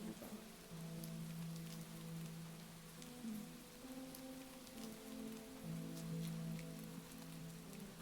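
Steady rain patters on a surface as a continuous soft hiss with scattered drop ticks, with low music tones running quietly underneath throughout.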